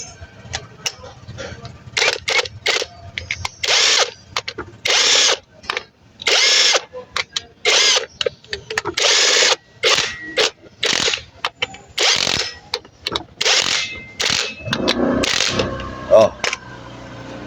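Power tool tightening a motorcycle clutch hub nut, rapid repeated buzzing bursts with short gaps between them, loud and close, rising to a longer, rougher run near the end.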